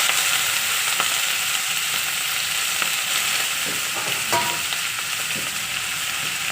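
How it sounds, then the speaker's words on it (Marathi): Washed fenugreek leaves frying in a pan while being stirred, a loud continuous sizzle with occasional scraping and clinks of the spoon, close by and without talk. "त्याच्यामध्ये धुतलेली मेथी टाकून घ्यायची"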